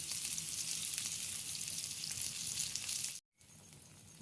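Marinated unpeeled prawns coated in masala sizzle with garlic in a pan, a loud, steady frying hiss that cuts out abruptly for a moment near the end before resuming.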